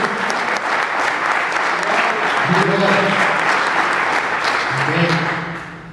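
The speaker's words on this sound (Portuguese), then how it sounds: "Aplauda o Senhor nessa noite." A church congregation claps steadily throughout, with a few voices calling out over the applause before it fades at the end.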